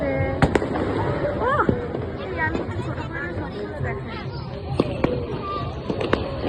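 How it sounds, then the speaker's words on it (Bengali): Firecrackers burst at a New Year celebration, a few sharp loud cracks scattered through the stretch, with crowd chatter and voices talking underneath. "এইভাবে ধরে থাকলে মানে 100টা বাজি ফুটবে।"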